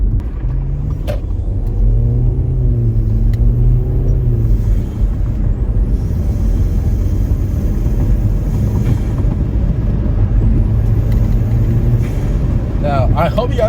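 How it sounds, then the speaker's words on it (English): Audi A4 fitted with a CTS intake drives under load, a steady loud engine rumble with the turbo spooling up as a faint whistle, continuous from inside the car with a person talking over it. "Every time you're on the throttle, you just hear it spooling up, which is pretty cool"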